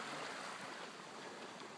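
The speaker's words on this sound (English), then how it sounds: "this little stream right here." A small stream flowing where people wash, a faint, even rushing of water heard at a distance, steady and unbroken with no voices.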